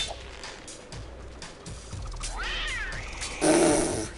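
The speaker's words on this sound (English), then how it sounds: "He meows like a cat." A cat in the Spider-Man 2 video game gives one clear rising and falling meow amid low game ambience, followed by a sudden louder burst of noise.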